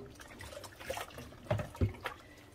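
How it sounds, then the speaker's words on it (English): Hot soapy water running and splashing as a skillet is washed by hand with a soft dishcloth after scrambled eggs, with soft trickling and a few louder splashes close by. "just hot soapy water and my dishcloth"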